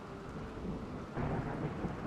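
Steady rain pours in a video game while low thunder rumbles underneath, swelling louder partway through, with no voices.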